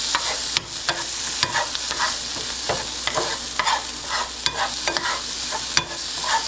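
Salt and pepper being stirred into a big breakfast in a frying pan: a steady sizzle under quick, repeated scraping strokes of a utensil against the pan, close and loud.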